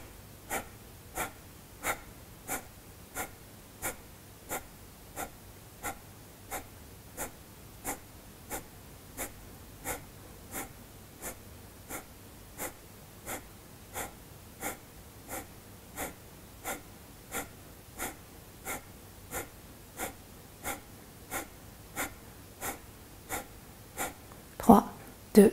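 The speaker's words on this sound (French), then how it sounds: "on va faire 40 Kapalabhati" Rapid, forceful Kapalabhati yoga breathing: about forty sharp nasal exhalations pulsing at an even, quick rhythm, close and clear over quiet background, ending with a louder breath at the close.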